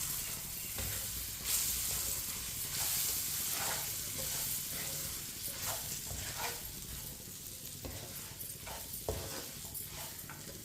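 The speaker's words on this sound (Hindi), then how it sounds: "अब इसे 2 मिनट के लिए चम्मच चलाते हुए भून लेंगे।" Walnut halwa with chopped coconut roasts over low heat in a pan, giving a soft, continuous sizzle with intermittent scrapes of a spoon stirring the mixture.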